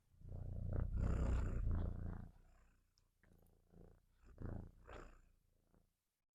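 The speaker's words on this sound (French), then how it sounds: "Écoutez-moi, c'est mon chat ronronne." A nine-month-old female cat named Nala purring close up, a steady rumbling purr that swells for about two seconds, then comes back in softer, shorter breaths before fading.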